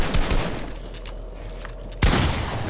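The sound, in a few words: gunfire in the video game Fortnite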